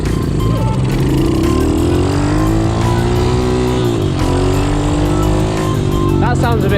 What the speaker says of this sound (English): That sounds a bit better, doesn't it? You've always got to listen to your bike.